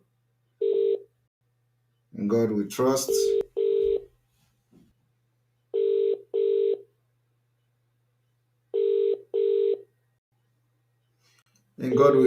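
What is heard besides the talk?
telephone call dialing and ringing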